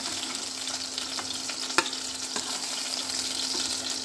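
Fish pieces lightly frying in a pan for a fish masala curry give a steady, close sizzle with a few soft stirring clicks and one sharp knock, and no voices.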